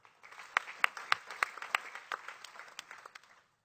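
A church congregation claps together in a burst of applause, sharp claps rising quickly and then thinning out before stopping.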